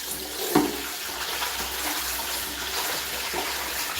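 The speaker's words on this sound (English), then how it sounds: "Rinse your basin a little bit." Running water rinses a basin while potatoes are washed, a steady close splashing flow with a small clunk near the start, no voices.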